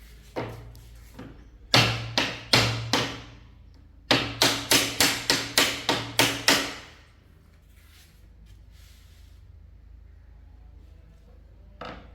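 A wooden table part is struck with a hammer to join a desk, giving two bursts of sharp, loud blows in quick succession, about five then eight, before a quiet room tone.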